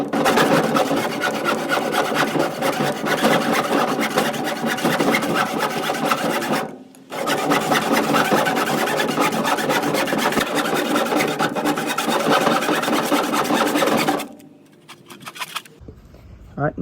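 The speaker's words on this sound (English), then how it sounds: "I think I'm gonna be able to cut it with the handsaw" Handsaw cutting through a wooden board for a homemade fishing rod holder, a loud steady rasping of rapid back-and-forth strokes that pauses briefly midway, then stops near the end.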